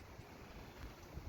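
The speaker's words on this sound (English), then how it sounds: "It's windy and cold, just damn miserable for the 2nd of April." Wind blowing outdoors on a cold, blustery spring day, a steady faint rush with low buffeting gusts against the microphone, no voices.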